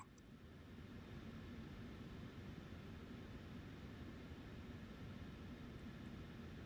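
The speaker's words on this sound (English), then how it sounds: "Fired the engines right up" Boeing 737-800 jet engines run up in a PMDG flight simulator game, Southwest Airlines aircraft in cold weather, as a faint, steady, continuous roar with no break.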